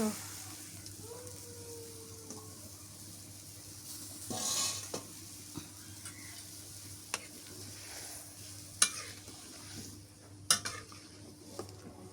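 River fish going into hot oil in a pan, a low quiet sizzle with scattered spatula clinks and scrapes against the pan. A few sharper pops and knocks come through near the end.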